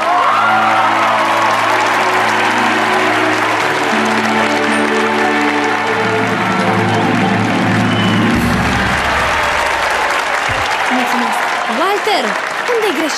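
A school auditorium audience claps and cheers loudly and continuously, with whoops rising from the crowd while an amplified voice talks over the applause.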